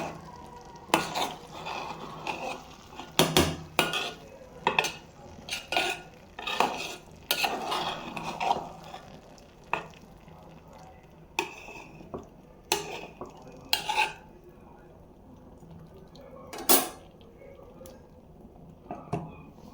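Khichuri is stirred in a pot with a ladle that scrapes and clanks against the metal in repeated irregular strokes, close and distinct against a faint sizzle, with no talking.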